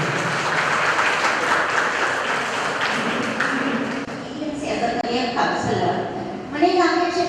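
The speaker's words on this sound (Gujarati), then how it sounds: "તાળીઓથી વધાવશો." Audience applause greets a counselor trainer at a Shree Katchi Lohana Mahajan vocational guidance and aptitude event in Mumbai, a steady roomful of clapping that fades after about four seconds into talk and tonal sounds.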